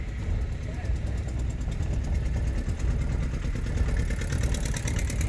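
A car engine runs steadily in first gear as a learner eases the clutch out during a driving lesson, a low continuous drone with a voice speaking over it.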